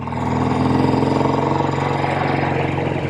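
A 1967 BSA Spitfire Special MkIII motorcycle engine runs steadily and loud at close range, with a continuous throbbing rumble and an even pulsing beat.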